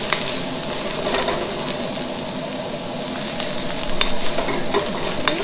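Garlic sizzles and fries in a pan over medium-high heat, a steady broadband crackle with occasional stirring scrapes, close and loud with no talking.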